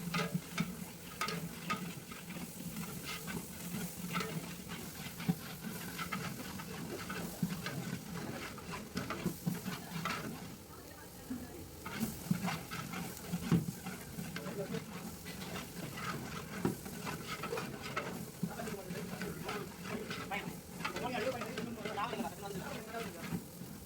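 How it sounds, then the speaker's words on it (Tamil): Ginger garlic paste frying with softened onions in a large catering pot for a 10 kg veg biryani, a steady sizzle and hiss with scraping stirs running throughout at moderate loudness. "இதில் இஞ்சி பூண்டு பேஸ்ட்டு சேர்த்துக்கலாம்"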